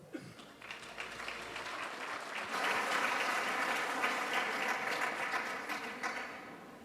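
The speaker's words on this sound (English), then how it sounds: "let's give them a big round of applause." Big round of applause from an audience at a live hospital event, broad clapping that swells after a couple of seconds and holds steady, loud and dense, with a few voices mixed in.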